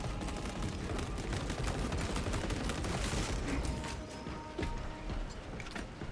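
Heavy bolt rifle fire and grenade blasts from a video game hammer away in a dense, continuous barrage with clattering mechanical layers, loud and close throughout.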